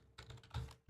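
Brief bursts of typing on a computer keyboard, a few quick clustered key clicks, close and fairly quiet.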